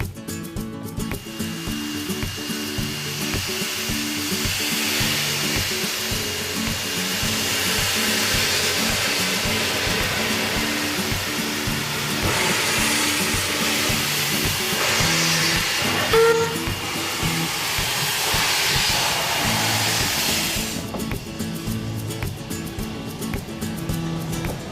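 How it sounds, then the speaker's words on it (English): A double-headed steam train on the Pichi Richi Railway rumbles steadily along with a deep mechanical drone and rushing hiss that swells louder midway, then eases back to a lower rolling rumble. "Today we are travelling on a special double-headed train service from Port Augusta to Quorn."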